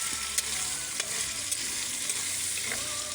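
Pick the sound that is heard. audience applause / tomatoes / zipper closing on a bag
tomatoes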